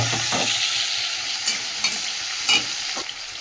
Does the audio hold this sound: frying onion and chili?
yes